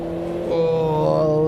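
F-Inter open-wheel race car engines in the Automobilista 2 racing game, a loud, close, buzzing engine drone that climbs in pitch as the car accelerates.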